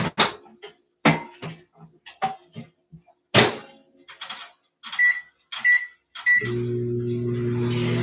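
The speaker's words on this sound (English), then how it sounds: "put it in the microwave for 25 seconds" A microwave oven is started, with keypad beeps and button presses followed by a steady low hum as it begins running with a food dish inside, the beeps close and crisp.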